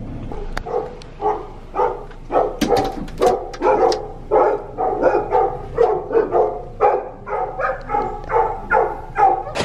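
A dog barks repeatedly and loudly nearby, a rapid run of sharp yaps with a few whimpery notes mixed in, the barks coming roughly every half second.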